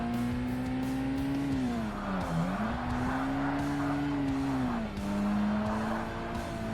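A Mazda Miata race car in Forza Motorsport on Xbox holds a steady engine drone with pitch dips at shifts and braking, tire squeal mixed in, loud and continuous throughout.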